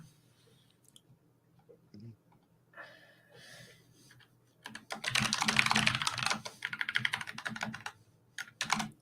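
Someone types on a computer keyboard during a live coding session. Sparse keystrokes come first, then a dense burst of rapid, close clicking from about the middle onward.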